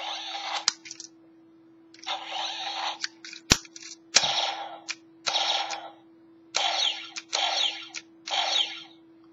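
Bursts of buzzy, clattering gun effects from a 2010 Ultimate Action Dragon Destroyer toy in short repeated volleys, separated by pauses, with a sharp click and a steady hum throughout.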